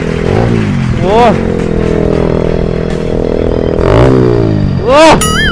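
A loud motorcycle engine with a Tridente F19 carbon racing exhaust revs repeatedly, its harsh exhaust note rising and falling in sharp bursts, with a sudden high rev near the end.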